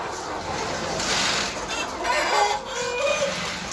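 Chickens in a coop cluck continuously at close range, with a rooster's crow rising out of the flock and faint voices in the background.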